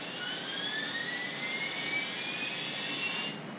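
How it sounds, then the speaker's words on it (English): A small model steam turbine engine runs steadily, heard alone at close range: a constant high, thin whine whose pitch rises slowly and evenly over a hissing rush. "I decided to do a turbine since I've done so many piston-driven steam machines."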